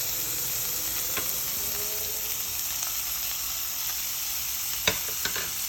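Mushrooms sizzle as they fry in a pan for a Viking porridge dish, a soft continuous hiss with occasional scraping clicks of stirring, close and without voices.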